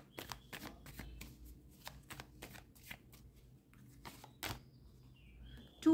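Tarot cards are shuffled in quick, crisp flicks that come in a rapid irregular run, faint and close, with a few soft chirps in the background.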